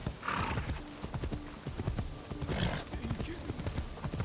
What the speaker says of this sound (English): Get the horse, man. Let's go.